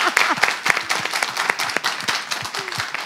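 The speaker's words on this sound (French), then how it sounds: "On va applaudir Rock Katako." Audience applause at a French talk show, dense close clapping from a studio crowd with a few scattered cheers, steady for about three seconds.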